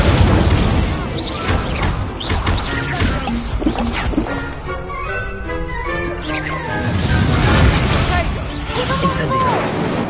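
Incendio fire spells are cast repeatedly in the Hogwarts Legacy video game, with loud booming bursts and crashing impacts layered over busy game sound while a person talks throughout.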